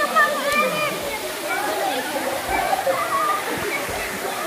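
Puray Falls in Montalban, Rizal, a waterfall pouring steadily with splashing and gurgling water up close, people faintly audible over the rush.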